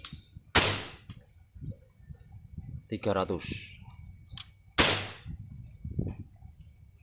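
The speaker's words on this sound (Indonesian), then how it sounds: "Glock ya, Glock. airsoft gun." Two sharp, loud airsoft Glock pistol shots about four seconds apart, each a crisp snapping crack, with someone talking between them.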